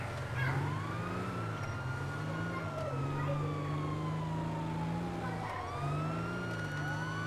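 Police sirens wail steadily in the Grand Theft Auto video game, chasing the player over a low rumbling engine hum, with the sirens sweeping up and down at moderate volume.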